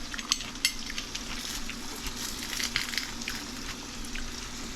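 Salmon fries in olive oil in an iron skillet with a soft, steady sizzle, broken by a few faint clinks of utensils or a pan nearby.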